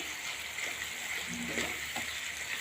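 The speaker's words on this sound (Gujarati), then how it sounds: "મસાલા એક મિનિટ શેકી લેશું આપણે" Cumin and garam masala with cardamom and cloves roast in oil in a pan for matar rice, giving a steady low sizzle and light crackle throughout, close and continuous.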